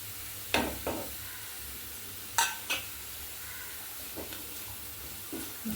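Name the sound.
stirring spiced vegetable curry in a pan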